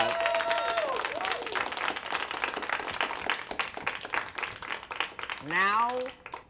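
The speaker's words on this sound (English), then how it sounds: "Please, everyone, a round of applause." A crowd breaks into a round of applause, a dense spatter of clapping with scattered cheers and whistles rising and falling, while a voice speaks over the start and sliding whistle-like tones cut through near the end.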